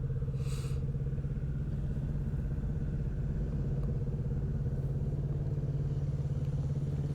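A motorcycle riding a steady loop around a 40-foot circle, its engine giving a continuous, even, close drone with a low buzzing hum that holds at a constant pitch, and no talk.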